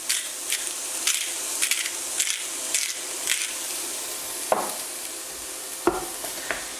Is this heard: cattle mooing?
no